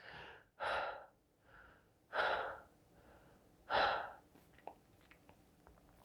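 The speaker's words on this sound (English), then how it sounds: "So this is shallow breathing." Shallow chest breathing demonstrated up close: three loud, quick breaths in and out, each a short airy rush with softer breaths between, then faint clicks and stillness.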